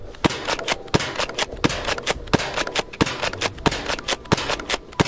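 Nerf Gel Fire Raid gel blaster cocked by pulling the slide back, then fired: a rapid series of sharp, close plastic clacks and snaps in an irregular rhythm, with no talking.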